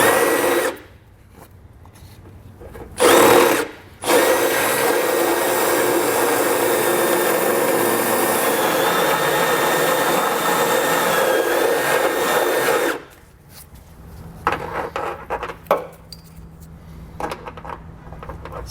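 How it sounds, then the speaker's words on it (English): Grinding bit on a power tool enlarging a hole in the steel frame of a 2018 Subaru Outback wagon, one long steady loud whine of about nine seconds after two short bursts, then quieter clatter and handling noises. "It's just a grinding bit. And so I'm going to open this up"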